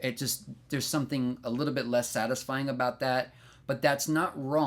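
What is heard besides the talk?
None of the usual background noises is heard.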